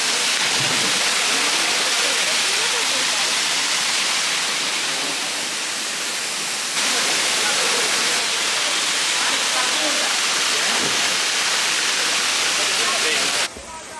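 The waterfall at Gozalandia, Puerto Rico, gives a loud, unbroken roar of rushing water that fills the whole stretch at a steady level.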